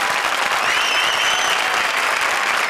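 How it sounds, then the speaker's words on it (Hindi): Dense, steady applause from a studio audience fills a comedy show stage during a horror-themed Comedy Circus episode. It stays loud and continuous throughout, with a faint tonal sound running above it. "हमारी चारों भूतिया जोड़ी के लिए जोरदार तालियां"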